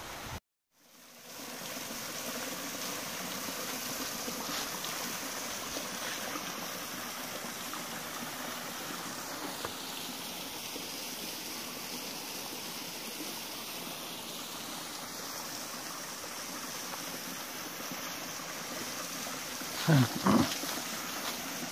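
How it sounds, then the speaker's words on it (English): Steady rushing water of a creek in the Sipsey Wilderness flowing over rocks, continuous and fairly close, with a brief louder splash or bump near the end. "This is down at the creek."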